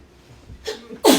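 A single sharp sneeze comes close to the mic, preceded by a brief inhale and a smaller breathy catch, loud and abrupt against a quiet background.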